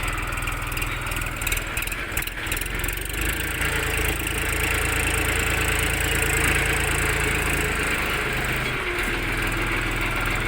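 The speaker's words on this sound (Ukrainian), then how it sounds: "Такий у нас тракторець, ловол 234 реверсний на широкій резині відправляється до свого власника." A Lovol 234 reverse mini tractor on wide tyres runs steadily at idle, its engine drone loud and constant throughout with no talk.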